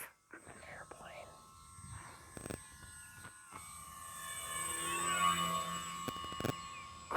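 A Horizon Hobby Maule M-7 RC airplane drones overhead, its thin electric motor whine rising and swelling as it passes, fairly faint with a few sharp clicks and soft whispered talk nearby.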